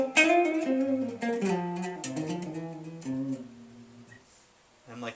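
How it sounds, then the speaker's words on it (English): Guitar playing a pentatonic lick, a quick phrase of clear single notes and bends in a close, dry recording, ending with a short pause and a final note. "In case you forgot what the lick sounds like, it sounds like this."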